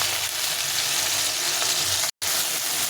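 Spice paste and tomato fry in a pan for a kohlrabi curry, giving a steady, close, dense sizzle throughout with one brief cut to silence near the end; no one speaks.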